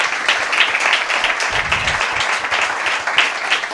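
Audience applause at a book presentation for a novel about the conquest of Málaga, a sustained, busy crowd of clapping hands, loud and even throughout, with a brief low thump partway through.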